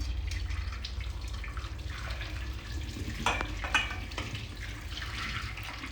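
Warm water poured a second time over flipped fish in a kitchen steamer, a continuous close trickle and splash with a few clinks of the pot and drips scattered through it.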